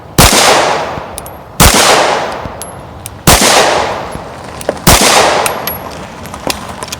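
Four loud, sharp pistol shots from a CZ P10c at a shooting range ring out about a second and a half apart, each followed by a decaying echo and small metallic clinks between them.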